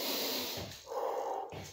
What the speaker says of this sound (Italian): Iniziamo la respirazione naso bocca.